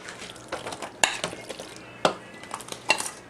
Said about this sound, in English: now we're going to start putting in the macaroni